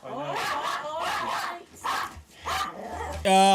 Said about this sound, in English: These small dogs just have them barks that travel through your body.